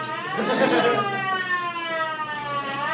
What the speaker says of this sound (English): There was a siren outside.